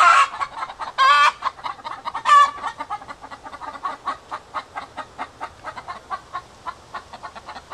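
Chickens clucking near a rabbit, a few loud bursts of clucking at the start followed by a steady run of softer, rhythmic clucks and calls.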